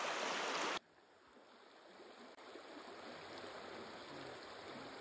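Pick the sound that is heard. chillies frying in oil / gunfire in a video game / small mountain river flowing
small mountain river flowing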